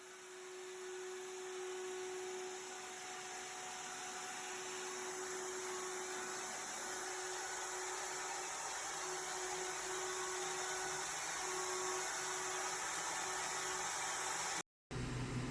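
A shop vac converted into a robot vacuum runs with a steady, close motor drone and an airy rush under a constant low hum, then cuts out briefly near the end.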